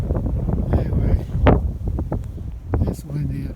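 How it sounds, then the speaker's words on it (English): Gusty wind buffets the microphone on a mountain hike in the Great Smoky Mountains, a steady low roar with rustling surges and brief thumps, loud and close throughout. "it's windy up here"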